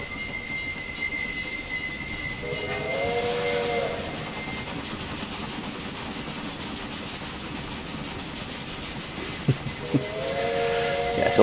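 A steam train runs in Railway Empire 2, the beer train from Albany bound for Philadelphia. Low rumbling chuffing carries throughout, steam whistle blasts sound near the start and again near the end, and a brief hiss with a couple of sharp clanks comes late.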